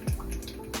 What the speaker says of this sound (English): Let me turn this water off, because now it's just making glugging sounds